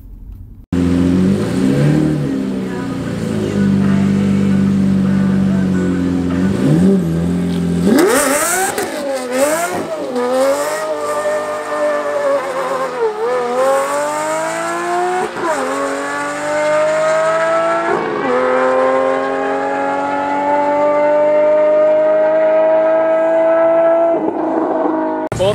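A car spinning its tires in a burnout in first gear all the way down a quarter-mile drag strip, with loud revving engine and rising, wavering tire squeal that carries on for the whole stretch.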